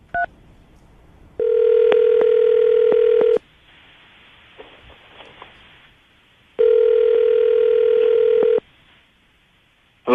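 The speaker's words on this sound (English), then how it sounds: "I'm going to dial the phone number right now" Telephone handset playing a steady dial tone, then a short burst of keypad dialing tones for a phone number, followed by another long steady tone, loud and close with faint background noise.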